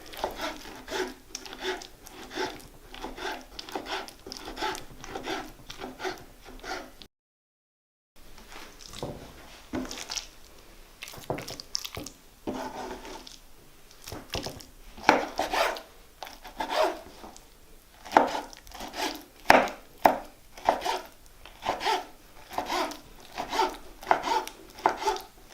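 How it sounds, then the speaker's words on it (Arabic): Eggplant chopped with a knife on a board for baba ghanoush, a long run of crisp rhythmic cuts, sometimes rapid and sometimes spaced, close and alone, with a brief gap partway. "هلا خلونا نفرم الباذنجان"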